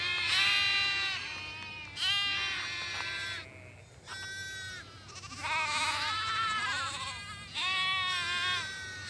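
Ewes and lambs in a flock bleat repeatedly during a pasture move, several overlapping loud calls in waves over steady outdoor background, no talking.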